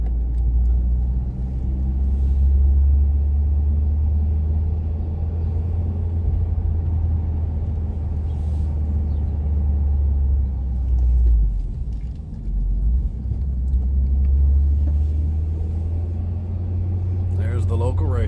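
A small Honda Civic rumbles past on the road, a low steady engine drone that swells and fades, heard close with someone talking over it.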